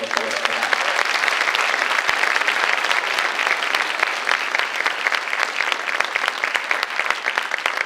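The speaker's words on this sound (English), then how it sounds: "A nice round of applause for that." An audience at a high school scholarship night breaks into sustained applause, dense and even clapping throughout with a faint voice at the very start.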